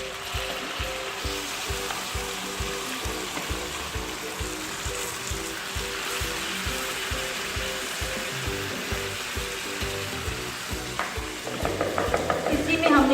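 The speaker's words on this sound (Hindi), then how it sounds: "ये देखिए हमारा प्याज हो गया। अब हम इसमें अपना मैरिनेटेड चिकन डालेंगे।" Marinated chicken seasoned with ginger, garlic, salt and chili, added to frying onions for a white chicken karahi, sizzling steadily with rhythmic stirring and scraping strokes in the pan, growing louder and busier toward the end.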